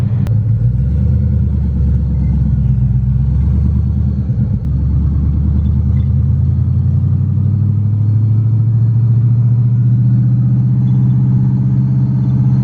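A car with a wheel-hop issue being driven to warm up produces a loud, close, continuous engine rumble that holds steady without letup.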